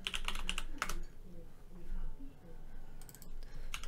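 Quick bursts of clicky computer keyboard typing, close and moderately loud, with short pauses between runs of keystrokes and a soft background hum.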